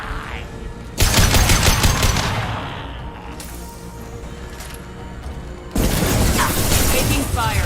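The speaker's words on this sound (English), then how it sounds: "Taking some fire, Shepard." Gunfire in a Mass Effect 2 battle, with loud sustained bursts of automatic shots and impacts at the start and end, a quieter stretch of combat noise between them, and no talk.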